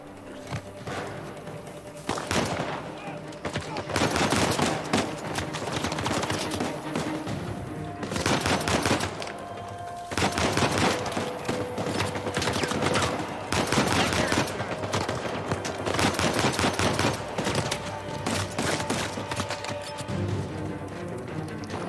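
Bursts of gunfire from a firefight in Uncharted 4, several loud clusters of rapid shots separated by brief lulls, with combat noise filling the gaps.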